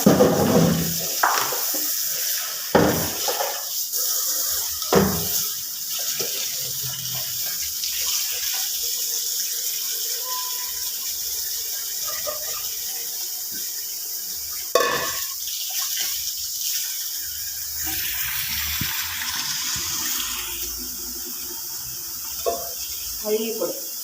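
Running tap water splashes steadily over vegetables being rinsed at a kitchen sink, with brief clatters and handling knocks throughout.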